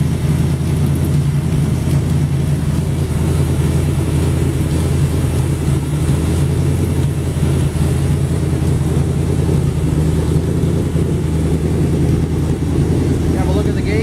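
A car engine runs steadily on a test stand after timing adjustment, giving a continuous loud low rumble that holds at an even idle throughout.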